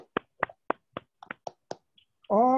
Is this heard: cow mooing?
no